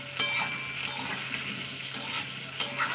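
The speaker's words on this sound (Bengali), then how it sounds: "দিয়ে এটা আমি আবার তেলে একটু ভাজা করে নিতে হবে।" Potato pieces frying in hot oil with onions, a steady sizzle with occasional stirring scrapes and light clinks of a utensil against the pan.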